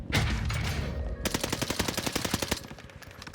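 Rapid submachine gun fire in Call of Duty Warzone on the Fortune's Keep map: a loud burst at the start, then a long, steady stream of fast, evenly spaced shots that continues to the end.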